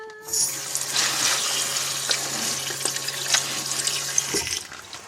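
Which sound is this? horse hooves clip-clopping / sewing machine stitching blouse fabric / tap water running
tap water running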